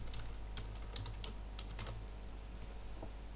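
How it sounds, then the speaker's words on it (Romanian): Rapid keystrokes on a computer keyboard as a web address is typed into a browser, a quick irregular patter of light clicks close by over a faint steady hum. "în bara de adrese scriem guideguide.me"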